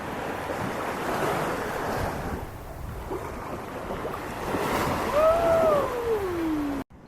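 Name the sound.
ocean waves on Phu Quoc Island beach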